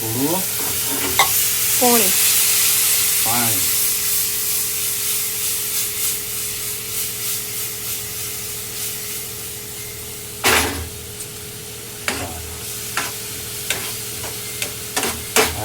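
Spices tempering in hot oil for a Gujarati vaghar in a home kitchen: a steady, close sizzle runs throughout with stirring scrapes, and sharp utensil knocks land in the second half.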